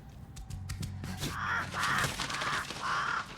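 A crow caws four times in a steady, evenly spaced series in the video game The Lord of the Rings: Gollum, loud and clear over low game rumble and earlier clicks.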